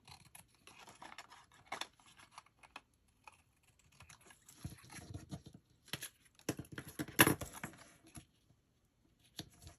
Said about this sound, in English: I'm just going to cut right along